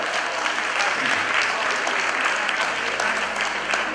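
Sustained applause from a crowd honouring grandparents at a celebration, dense steady clapping filling the whole stretch at close range without a break.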